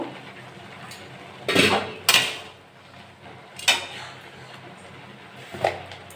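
Metal lid lifted off a cooking pot of bottle gourd being boiled, giving several sharp clanks and clinks at close range, spaced apart over a quiet kitchen background, with no talking.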